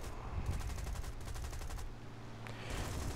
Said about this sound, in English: there goes the last of my cannon ammunition